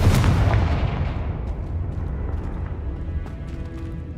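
A Confringo fire spell explodes in the Hogwarts Legacy video game, one loud booming blast at the start that rolls off into a long rumbling decay.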